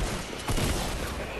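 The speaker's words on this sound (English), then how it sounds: "Just fucking shoot him!" Dense, loud gunfire in the Fortnite video game, a continuous close burst of shots filling the moment with no clear gaps.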